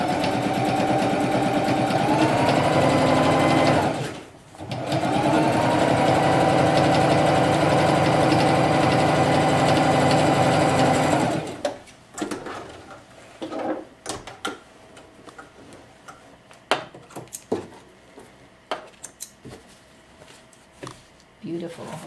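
A sewing machine stitches an art banner, running as a loud, steady whir with a short pause in the middle, then stopping and giving way to scattered handling clicks and fabric noises.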